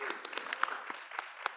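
An audience claps at a public talk event, a brief burst of scattered, fairly close hand claps over a few seconds, moderately loud and thinning out.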